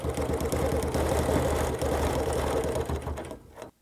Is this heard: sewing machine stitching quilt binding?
yes